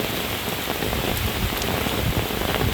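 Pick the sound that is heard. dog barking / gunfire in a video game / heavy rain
heavy rain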